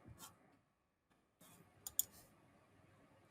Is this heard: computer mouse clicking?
yes